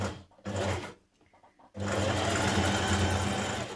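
A sewing machine top stitches a sweater neckband, running in a short burst, pausing with faint handling clicks, then whirring steadily and close for the remaining seconds.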